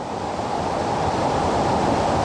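Loud, continuous rushing of a swollen creek at the Walls of Jericho, Tennessee, a dense steady roar close by with no breaks and no voices.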